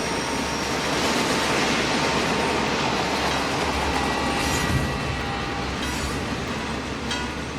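A train rolls past in an X-Files episode, a loud, continuous rumble with a wheel clatter and a high metallic whine, with no speech over it.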